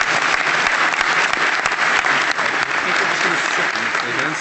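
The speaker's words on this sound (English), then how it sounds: "A round of applause" Audience at a Canadian Club Toronto business luncheon applauding panelists, dense continuous clapping from a large room throughout.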